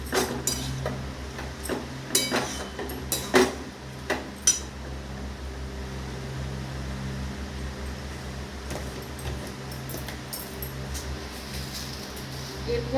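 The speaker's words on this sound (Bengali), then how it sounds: "এরপরে আমি এই যে ভেজে রেখেছি ডাল, এইটা দিয়ে দেব। দিয়ে আবারও একটু নাড়াচাড়া করে দেবো।" A spoon clinks and scrapes against a pan as fried lentils are stirred into an ash gourd curry, giving several sharp metallic knocks early on, then a quieter stretch over a steady background hum.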